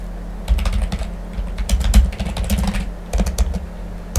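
Rapid keyboard typing in bursts for chatting in a Roblox hood game, close and clear, with short pauses between flurries of keystrokes and no voices.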